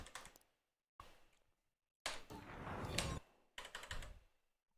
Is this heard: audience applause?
no